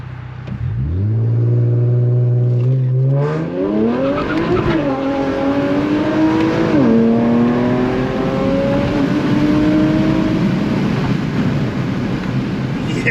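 An Infiniti Q60 launches from a stop and accelerates hard across an intersection, its engine loud and close, climbing steadily in pitch through upshifts, with tire noise and a roaring drone that fills the whole stretch.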